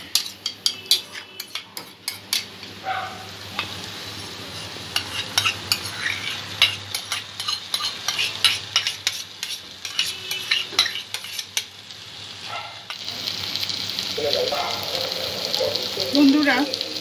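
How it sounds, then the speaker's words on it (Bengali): Jackfruit with sour curd is stirred and sautéed in a pan, with repeated close spoon scrapes and clinks against the metal over a soft sizzle, growing busier toward the end. "বন্ধুরা, এঁচোড়টা 10-12 মিনিট আমি কষিয়ে নিয়েছি।"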